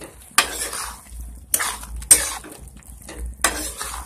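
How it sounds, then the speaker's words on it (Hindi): Pan-fried cauliflower is mixed with spices for aloo gobhi, a spoon scraping and clattering against the pan in four loud bursts over a soft sizzle. "इसको हम मसाले के साथ अच्छे तरीके से मिक्स कर देंगे"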